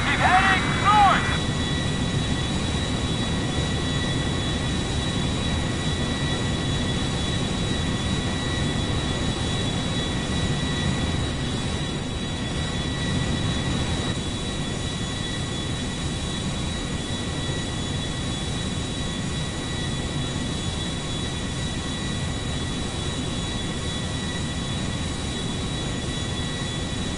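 An aircraft roars continuously in a video game police chase, a steady loud engine drone running throughout with a brief burst of radio chatter at the start.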